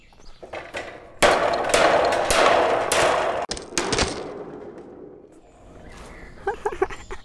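Loud hammer blows knock a board into place while building a hanging lounge, a rapid run of heavy wooden strikes followed by a few scattered knocks and lighter taps near the end.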